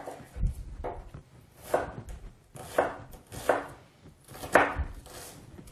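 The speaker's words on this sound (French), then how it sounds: "Donc on va couper un peu d'oignon," A knife chops onion on a cutting board for guacamole, with about six distinct, fairly close thuds spaced roughly a second apart and no talking.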